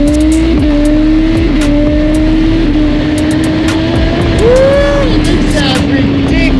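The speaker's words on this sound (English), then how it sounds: "Today we have a 2022 GSXR750 on the dyno." A 2022 Suzuki GSX-R750 motorcycle running on a dyno, its engine droning loud and close at a steady pitch with a brief rev partway through.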